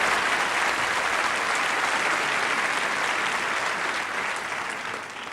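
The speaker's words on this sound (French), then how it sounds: "Applaudissez pas trop, ils vont couper chez vous." Audience at a live stand-up comedy show applauds continuously, a dense, loud wash of clapping that holds steady and then slowly starts to fade near the end.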